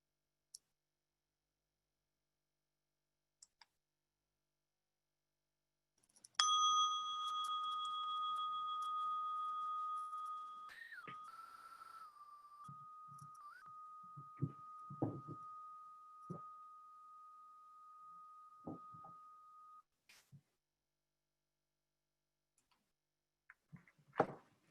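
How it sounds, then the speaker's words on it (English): A meditation bell struck once, ringing clearly with a steady tone alone in quiet, then slowly fading over several seconds while faint small knocks and rustles follow. "I'm going to ring a bell, and when you can no longer hear the sound of the bell, gently open your eyes."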